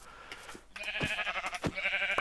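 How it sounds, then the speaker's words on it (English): Minecraft sheep bleat several times in a row, a quiet wavering cry repeated against a faint background with no voices over it. "Oh, aha, a sheep."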